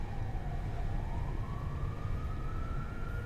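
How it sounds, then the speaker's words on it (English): Police car siren heard on a London Victoria to Chichester route in Train Simulator 2020, a faint rising wail far off over a steady low train rumble. "I'm currently hearing police car noises, which is thanks to the route rather than the train itself"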